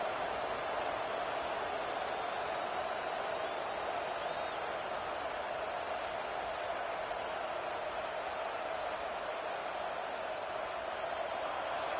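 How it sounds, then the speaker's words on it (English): Crowd noise early in a Penn State football game at Beaver Stadium, Happy Valley, a steady, dense roar that holds at one level throughout with no distinct breaks or cheers standing out. "It's early, but this crowd is fired up. Listen to this noise here."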